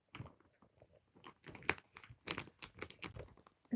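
Crunchy food being chewed up close: a quiet, irregular run of crisp bites and crackling crunches in quick bursts, with short pauses between them and no talking.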